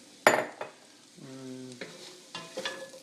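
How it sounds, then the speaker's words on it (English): Onions tossed into a pan with garlic land with a sharp clatter, followed by soft sautéing and stirring clinks, with a brief tonal ring in the middle, fairly quiet and close. "Time to toss in all the onions."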